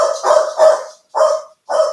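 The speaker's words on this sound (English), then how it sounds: "Oh, the dogs are barking away." Dogs barking at home as someone arrives at the door, a quick run of loud, close barks followed by two more separate barks.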